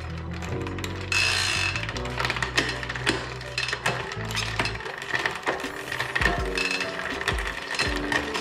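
A bicycle chain and freewheel turn on a repair stand, giving a loud, steady ratcheting clicking with mechanical whirring and shifting clatter up close; nobody talks.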